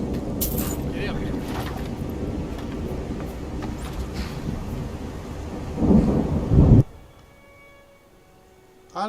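Thunder and rain in the video game Skyrim: a loud, sustained low rumble over a steady wash of rain swells near the end and then cuts off abruptly, leaving quiet.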